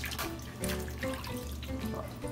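Water runs and drips from cooked lasagna sheets draining in a colander after an ice-water rinse, a steady close trickle with scattered droplet splashes and no talk.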